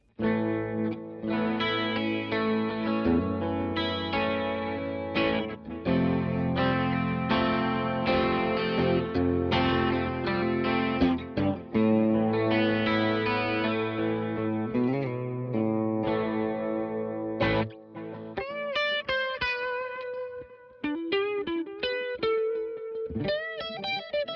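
An electric guitar on the bridge pickup plays sustained chords and single notes with a clean tone through an EP Booster pedal set to unity gain, ringing out alone, then lighter picked notes near the end.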